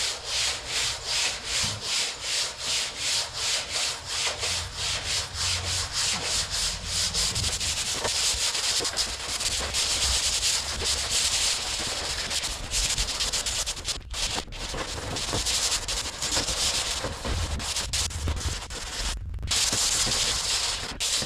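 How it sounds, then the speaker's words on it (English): A sanding block with sandpaper is pushed by hand across a car body panel during bodywork. Close, rhythmic back-and-forth rasping strokes at first give way to a steadier, continuous scratchy rubbing. "You're just kind of pushing the block and just feeling the grit."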